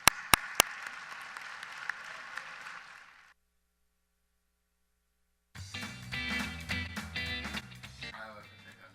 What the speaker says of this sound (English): Let's give a round of applause for Iowa Farmer Today.